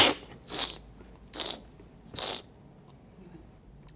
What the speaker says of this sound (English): give it a good slurp when you're tasting it